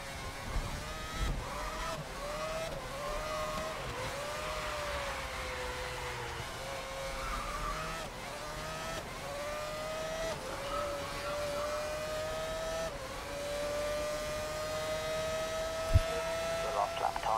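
A Formula One car engine screams at sustained top speed in a racing game, a high droning whine slowly climbing in pitch with gear shifts, while someone talks over it.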